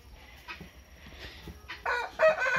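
A giant Indian rooster crows and clucks nearby on a small farm, its calls repeating in short bursts that grow louder toward the end.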